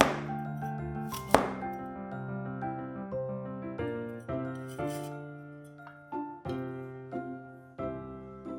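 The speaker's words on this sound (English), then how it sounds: "Then cut up the soft center." A kitchen knife cuts the soft inner core of a peeled broccoli stalk on a board, a few separate crisp chops spaced a second or so apart over sustained background music.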